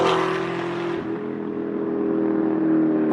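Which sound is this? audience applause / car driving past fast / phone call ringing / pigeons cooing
car driving past fast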